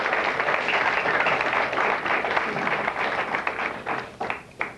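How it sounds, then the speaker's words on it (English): A studio audience at a 1980-81 high school varsity quiz bowl taping applauds, dense steady clapping that fills most of the stretch before thinning into a few scattered final claps. "Let's give them a nice round of applause,"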